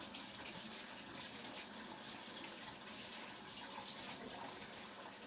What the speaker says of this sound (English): Let me wash my hands so I don't have doughy hands.